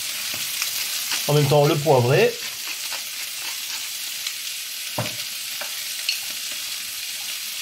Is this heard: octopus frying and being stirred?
yes